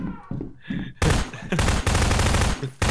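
Rapid shooting in the video game Minecraft, a few short pops at first, then dense sustained bursts of loud gunfire dominating most of the stretch, with no talk over it.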